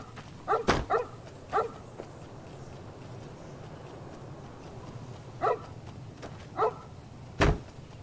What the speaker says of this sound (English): You scared me, dog